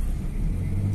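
Cars idle and creep in a rush-hour traffic jam in Malaysia, a steady low engine rumble close by with no talking.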